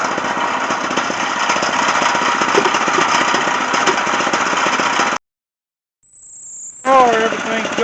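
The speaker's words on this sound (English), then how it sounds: "So we're going to keep drilling with it." Solar-powered water well drilling rig for an off-grid well, about 20 feet down, its engine running loud and steady with knocking pulses, cutting out abruptly before starting up again.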